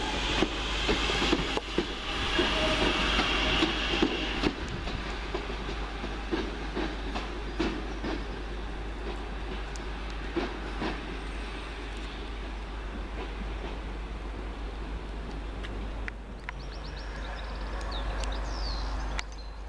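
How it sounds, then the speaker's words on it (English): London Midland class 323 electric unit 323220 pulling out of Wolverhampton station, a loud, steady rumble with rhythmic wheel clatter over the rails that eases slightly as it goes, no talking. "Now leaving 323220, and that's on the 1319 London Midland service from here to Walsall via Birmingham New"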